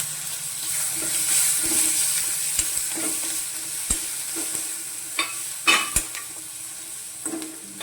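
Green chilies, tomato and ginger sauté in a pan with a continuous close sizzle, broken by intermittent spoon scrapes and clinks as the mixture is stirred.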